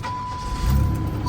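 A GM pace car engine cranks and catches, a low rumble swelling into a steady idle after a brief starter sound, close by with a faint high whine in the background.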